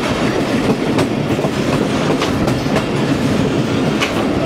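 A train runs through the Seven Sisters tunnels near Jhalar, giving a steady loud rumble with rhythmic clickety-clack of wheels on rail joints, close and continuous with no voices.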